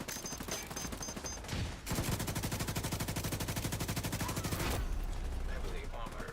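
Sustained LMG fire in The Division 2, a rapid, evenly spaced burst lasting about three seconds, close and loud, framed by other gunshots before and after.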